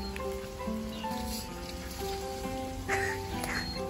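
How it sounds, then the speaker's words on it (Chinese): Rain patters on the roof of a new camper van, a soft, steady, close drumming of drops with a few brighter taps, while voices murmur faintly inside. "他应该是觉得下雨了，他不喜欢下雨。"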